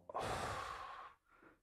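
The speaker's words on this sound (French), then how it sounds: "Une respiration" One deep, audible breath drawn in and released during a guided emotional exercise, close and soft, fading out with a slight trailing exhale.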